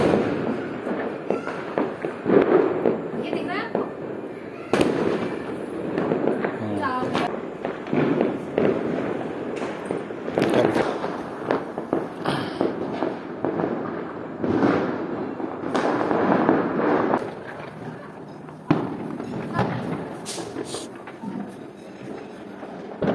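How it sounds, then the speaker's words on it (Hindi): Diwali firecrackers and fireworks burst again and again during a 2021 celebration, sharp cracks and pops landing in irregular, crowded bursts over a continuous crackle, some near and loud, others more distant, with voices faintly under the noise. "थोड़े बहुत पटाखे फोड़ेंगे"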